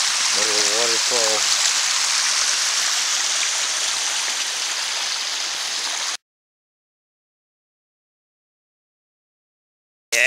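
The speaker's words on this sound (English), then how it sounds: "Little waterfall." A small waterfall in a woodland stream splashes as steady broadband rushing water, loud and close for about six seconds, with a brief voice near the start, then silence before the water noise briefly returns at the end.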